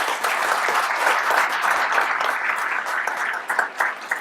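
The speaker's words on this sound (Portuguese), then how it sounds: "pedi um aplauso para os membros do nosso painel" Audience applause for the members of a panel at a university cybersecurity session, a steady dense clapping from a room full of people that continues for several seconds and thins into scattered claps near the end.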